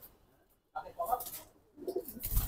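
Pigeons coo softly nearby in two short, throaty bursts separated by a brief pause, quiet against a calm background.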